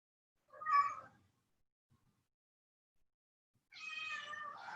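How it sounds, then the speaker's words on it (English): Rocky, a pet cat who wants to go outside during a storm, meows twice, with a short cry followed after a pause by a longer, drawn-out meow. Both are clear, close and heard alone in a quiet room. "Rocky's sad because she wants to go outside, but it's storming. So she's gonna meow the whole time."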